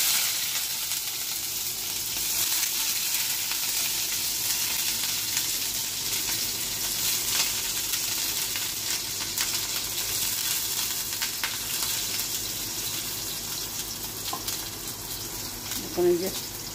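Sliced onions crackle and hiss continuously in hot oil in a pan, an early step of a Bengali fish head curry, with a steady close sizzle and a small clink near the end.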